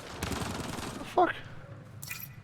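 Rapid gunfire in the sci-fi shooter Mass Effect: Andromeda crackles in a dense, fairly distant fusillade, broken by a short loud electronic whine, with faint voices in the background.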